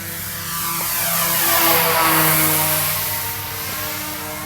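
Twin-engine HC Hobby Mosquito RC model plane in flight, a continuous motor drone rising and falling in pitch as it passes by, moderately loud with no voices.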